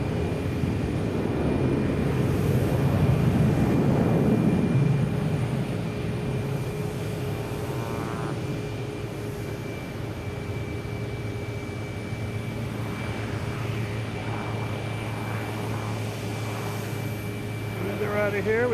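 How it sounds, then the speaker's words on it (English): An American Airlines jet takes off at Boston Logan Airport, its engine roar swelling early then settling into a steady distant rumble with a faint whine, while a person talks over it. "we have American Airlines taking off"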